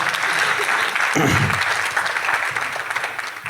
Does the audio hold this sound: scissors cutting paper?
no